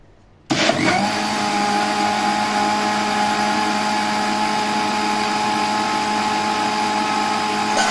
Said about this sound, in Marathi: जेव्हाही तुम्ही मिक्सरमधून हे काढत आहात तेव्हा मिक्सरमध्ये तो जास्त फिरवायचा नाही